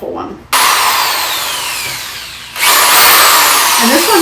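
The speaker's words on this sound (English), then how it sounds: "Power tool content." A power tool whirs steadily during a budget Halloween bathroom makeover, close and loud, pausing briefly and then restarting for a second sustained run, with no talk.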